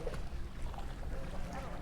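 A small bangka boat moves on open water near the San Juanico Bridge, giving a steady rushing wash of water and wind noise that stays fairly loud and even throughout.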